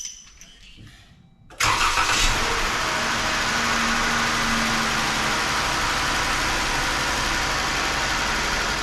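A Chrysler 3.6L Pentastar V6, just back together after an oil filter/cooler housing replacement, cranks briefly and catches, then settles into a loud, steady, close idle that continues without a break.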